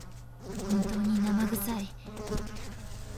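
Flies buzzing in the horror video game Corpse Party Book of Shadows, a continuous droning hum with a wavering pitch, fairly close and moderately loud.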